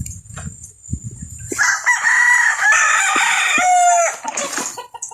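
Backyard chickens cluck, and a rooster crows loudly and close by for several seconds. A few scattered clucks come before the crow and after it.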